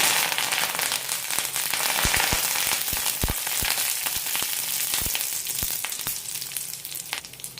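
Curry leaves hit hot oil already frying fenugreek, cumin and dal for a garlic egg fry, giving a loud, steady sizzle broken by sharp crackling pops throughout, with no talking.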